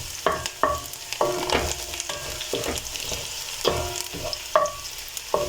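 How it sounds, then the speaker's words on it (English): Onion frying in hot oil in a pan for a potato stew, a steady close sizzle with repeated rhythmic scrapes and clacks of a utensil stirring through it. "In a pan, you'll heat your oil and an onion, and fry it until it's nicely translucent"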